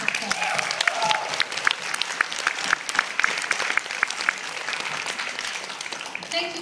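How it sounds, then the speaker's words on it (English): A conference audience applauds their champion at a Toastmasters event, steady dense clapping filling the hall for several seconds, loud and close, with a few voices mixed in beneath. "give our champion a big round of applause"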